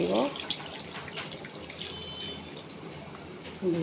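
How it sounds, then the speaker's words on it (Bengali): Water is poured into a pan of browned chicken curry in a home kitchen, a short splashing pour at the start followed by quieter sizzling and trickling, fairly faint. "এদিকে আমার মাংসটা কষানো হয়ে গেছে, এখন আমি জলটা দিয়ে"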